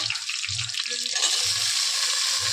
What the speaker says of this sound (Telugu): ఇప్పుడు ఉల్లిపాయలు పచ్చిమిర్చి వేగాయి కాబట్టి ఇప్పుడు మనం టమాటా వేద్దాం.